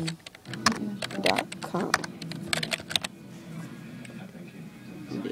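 Computer keyboard keys clicked in quick, uneven bursts near the microphone, overlapping a man's speech before trailing off into quiet.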